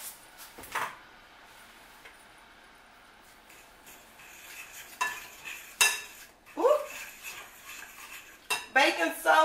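Dry baking ingredients, flour, sugar, salt and baking soda, are stirred in a bowl for a peach upside-down cake. Close scraping and clinking strokes come in irregular bursts that grow busier toward the end.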